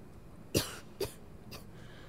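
A character in the Starfield video game coughs three times in quick succession, each a short, sharp burst against a quiet background hum, the last weaker than the first two.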